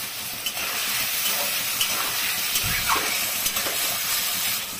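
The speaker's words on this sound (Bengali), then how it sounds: "পনিরটা একটু ভালোই ফ্রাই করব, একটু লাল লাল ভাব হবে," Paneer frying in a pan gives a soft continuous sizzle and hiss, broken by a few light clicks and taps of a utensil against the pan.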